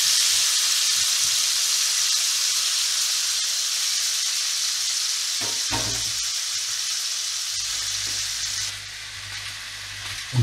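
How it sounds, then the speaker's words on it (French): Meat with sugar sizzles steadily in a frying pan, a dense bright hiss with a few stirring clinks, growing quieter toward the end. "Donc ça, je vais y mettre dans la poêle avec le sucre de la viande."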